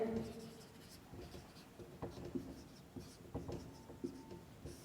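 Chalk or pen writing a line during a maths lesson, soft scratchy strokes in an irregular rhythm, faint and close, with a teacher's voice speaking lightly in the background.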